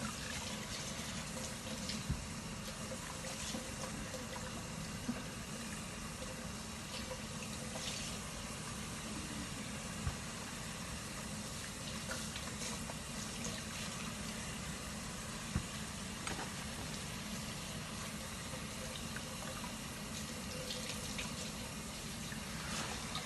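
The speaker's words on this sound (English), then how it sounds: "So I'm just gonna rinse these off." Herbs rinsed under a running kitchen tap for Haitian-style seasoning marinade, a steady, moderately loud hiss of flowing water continuing throughout with a few faint knocks and no talk.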